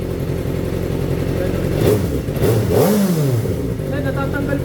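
A Kawasaki ZX-4RR motorcycle engine during a top overhaul revs up and drops back in quick surges over a loud steady idle, with voices talking over it.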